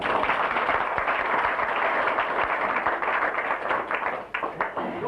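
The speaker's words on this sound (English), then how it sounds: "Give him a round of applause." Audience giving a round of applause at a live show, a sustained roar of many hands clapping that tapers into scattered claps near the end.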